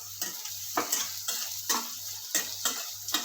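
A spoon stirs stuffed okra (bharela bhinda) with salt in a hot oiled pan, giving rhythmic scraping strokes about every half second over a soft continuous sizzle, close and alone.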